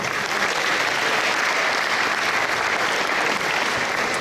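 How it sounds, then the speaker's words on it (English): Sustained audience applause fills a school athletic awards ceremony, steady dense clapping at full level throughout with no break. "Let's give these guys a round of applause."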